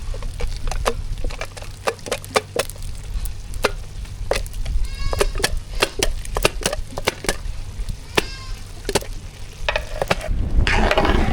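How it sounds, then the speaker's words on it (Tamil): Spoon stirring ghee through chicken biryani in a pot, with repeated short scraping and clinking strokes over a steady low sizzle, close and fairly loud, with no talk. "நெய் சேர்த்தாச்சு நல்லா கலந்து விட்டு தம் போட்டுக்கலாம்"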